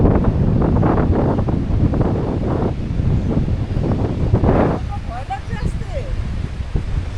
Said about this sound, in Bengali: তবে এখানে কিন্তু বেশ হাওয়া আছে